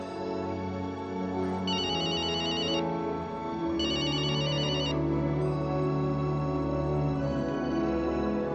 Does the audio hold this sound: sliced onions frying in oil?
no